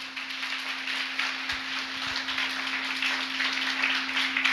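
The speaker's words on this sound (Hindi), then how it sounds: "ताली बजा गए, धन्यवाद दो।" Church congregation claps steadily during a service, a dense, even patter of hands with a faint electrical hum underneath and no voices.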